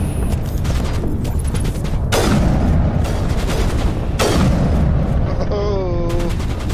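Sniper rifle fire in the Mass Effect game: two loud, sharp cracks about two seconds apart, each trailing into a long rumbling decay over a constant background of game sound, ending with a brief electronic chirp.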